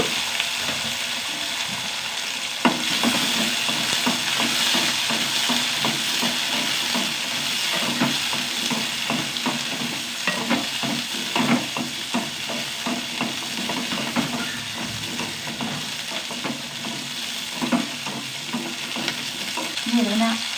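Shallots sizzle and crackle steadily in hot oil in a pan, with frequent stirring scrapes and clinks throughout, close and continuous with no talking.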